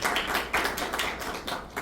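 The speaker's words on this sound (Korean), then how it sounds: "유무한 전무님을 박수로 모시겠습니다" An audience at a medical diagnostics seminar claps to welcome a speaker, a brief burst of scattered, fairly light hand claps with irregular rhythm.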